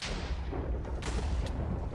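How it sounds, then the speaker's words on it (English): A lightning strike and small explosion in the Minecraft HBM nuclear tech mod, a loud continuous broadband rumble with three sharp cracking bursts in quick succession. "But remember that this will summon a lightning and cause a small explosion."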